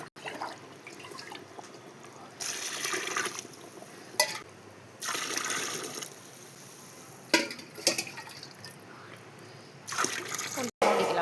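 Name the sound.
water being poured into cooking pot for biryani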